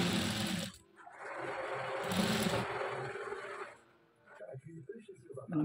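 Sewing machine stitching along a garment, its close rapid mechanical whirring running in bursts with short pauses, while someone talks over and between the runs.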